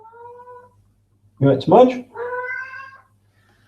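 A domestic cat meows close by, with a short quiet cry at the start and a longer, clear meow near the end, around a brief spoken question.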